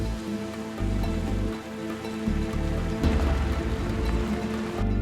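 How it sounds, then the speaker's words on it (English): Steady rain falls on a ranch during an afternoon axis and red stag hunt, a continuous loud wash of drops with a low rumbling undertone and no voices. "it's raining again, but not as bad"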